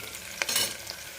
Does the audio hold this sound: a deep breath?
no